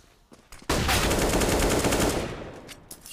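A burst of rapid automatic gunfire erupts in a Counter-Strike match on Dust 2 at a DreamHack Open tournament, loud and sustained for about two seconds before tailing off into scattered shots.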